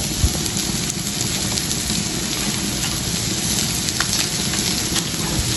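Butter sizzles in a pan with canned tuna, a steady close hiss and crackle that stays even and unbroken throughout.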